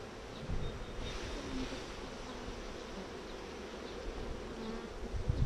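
Honeybees drone in a steady, close buzz throughout a beehive comb inspection, a continuous hum with no talk over it.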